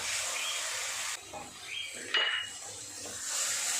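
Onion, ginger-garlic paste and tomato paste stir-fried in a pan, a steady bright sizzle with scraping stirring strokes and a clink of the utensil midway.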